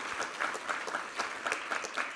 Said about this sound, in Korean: 우리 하나님께 감사와 영광의 박수 올려드리도록 하겠습니다